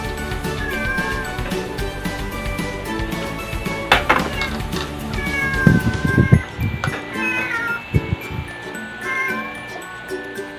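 Pet cat meowing outside, wanting to come in, several loud close mews in a varied sequence over household clatter and faint background noise.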